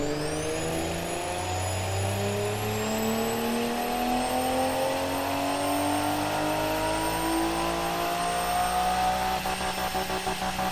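A car engine in the Automation video game revs steadily upward in one long, smooth climb, its whine rising in pitch and staying even in loudness throughout, with no talk.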